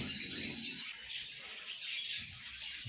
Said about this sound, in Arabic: واش طائر داخل بغى يخرج وما قدش مسكين